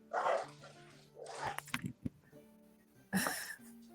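Dogs bark and yip in a few loud, close bursts, with short gaps between them and some whining noise.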